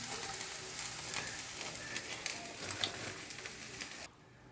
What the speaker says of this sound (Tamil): இதுவும் நல்லா வெந்துருச்சு நல்லா முறுமுறு அடித்து எடுத்துடலாம்